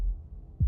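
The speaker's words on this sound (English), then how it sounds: "That was the sound of a heartbeat" A single low, muffled heartbeat thump from the video game Slay the Princess, faint and alone over a dull rumble.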